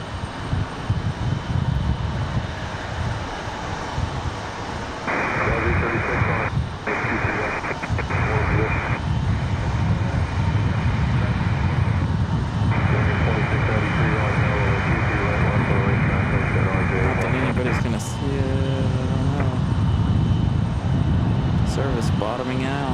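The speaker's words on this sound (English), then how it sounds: "So here we go, Aero Mexico back to Mexico City." An Aeromexico airliner departs Raleigh-Durham International for Mexico City, its engine roar rising and building steadily beneath intermittent talk, with a loud, sustained rumble through the later half.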